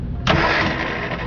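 The engine of a 1966 Austin Healey Sprite catches abruptly after a brief crank, jumping into a loud, rough running drone that continues steadily to the end.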